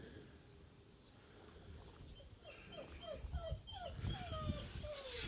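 A dog whimpers and whines in a series of short, high, rising cries near a classic Ford car being readied to move, growing slightly louder over low rumbling background noise.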